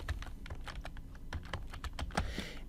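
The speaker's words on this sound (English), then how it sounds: "we're going to type in the words seats available" Quick bursts of keystrokes on a computer keyboard as words are typed into a spreadsheet cell, close and crisp with an irregular patter of clicks; no one speaks.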